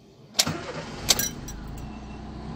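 A Fiat Palio 1.0 8V car with a fan fault cranks in two sharp bursts, then its engine catches and settles into a steady low idle nearby.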